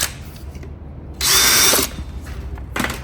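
A power drill whirs for about half a second in a loud close burst while fitting a spigot for a glass balustrade, with quieter handling and workshop noise before and after.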